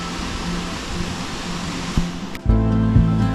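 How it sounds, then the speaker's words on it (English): A small waterfall with little water trickles and splashes in a remote wild camping spot, a steady close rushing hiss that grows louder and fuller toward the end. "Wow, what a beautiful waterfall. There's not much water in it."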